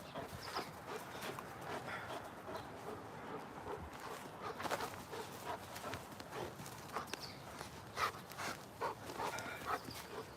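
A German Shepherd during hands-on training, heard as steady close panting with scuffling paws and movement, no talking over it.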